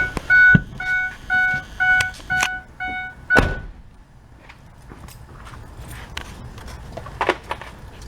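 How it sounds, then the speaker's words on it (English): A series of electronic chimes from a youth van child alarm system beeps in a steady rhythm, followed by a heavy sliding thunk of the van side door and scattered clicks and knocks. "Now you can open the door and get out, and we'll open the side door."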